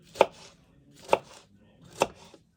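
Three sharp knife chops through peppers on a cutting board, spaced about a second apart, close and crisp with quiet pauses between.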